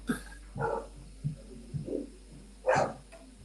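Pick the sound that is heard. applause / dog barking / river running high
dog barking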